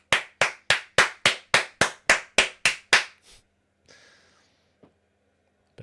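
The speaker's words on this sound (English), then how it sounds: "An aggressive clap." Ten sharp, loud hand claps ring out at an even, deliberate pace close to the microphone during a live football watchalong, followed by a few faint breathy noises and near silence.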